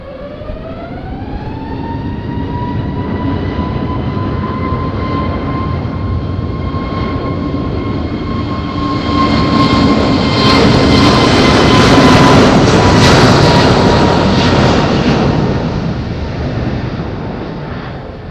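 Airplane taking off in windy conditions at Madeira Island Airport, a rising turbine whine that settles into a loud, sustained jet roar, swelling to a peak as it powers past and then slowly fading.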